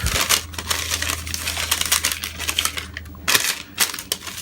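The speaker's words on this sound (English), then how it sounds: "Now if it's still a little bit too big, you'll just fold it back up" Parchment paper for a round baking pan being folded back up, close crinkling and crisp rustling with short sharp crackles and a brief pause in the middle, no talk.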